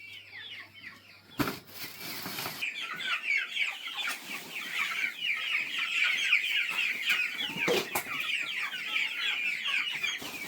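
Chickens being raised for extra income cluck continuously in a dense flock, a steady chorus of overlapping calls close by with a couple of sharp knocks and rustles, no talking.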